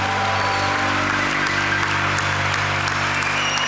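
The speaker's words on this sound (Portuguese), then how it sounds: "Uma salva de palmas para Manuel João Vieira." An audience at a music performance claps in a dense, steady wash of applause throughout, close and even in loudness.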